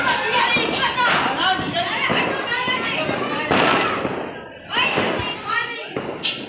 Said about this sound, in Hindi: और ये लग गया बिगेस्ट स्काई शॉट